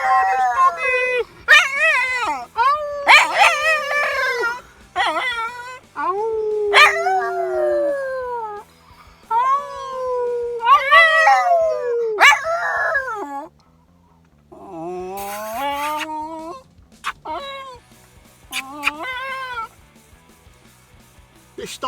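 An eleven-year-old pet dog lets out a series of loud, close, wavering howls in repeated bursts with short pauses between them, stretching over twenty seconds.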